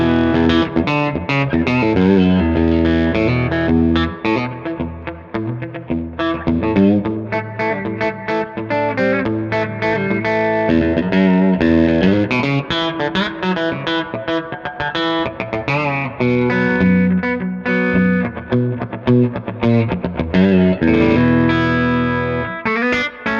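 Distorted electric guitar played through a Lil Scrapper handwired combo amp at around 30 watts, the speaker cone breaking up; loud, continuous chords and riffs with no talking.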